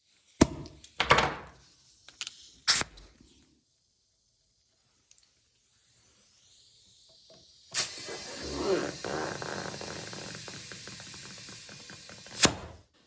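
A few sharp clunks and knocks lead into a small air compressor running steadily as it inflates a snowblower's flat tire, a continuous mechanical hum and hiss ending with a final thump.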